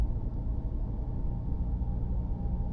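A Ram 1500 RHO's twin-turbo Hurricane inline-six idles with a low, steady rumble heard up close, with no voices.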